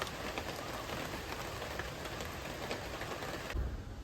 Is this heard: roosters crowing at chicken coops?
no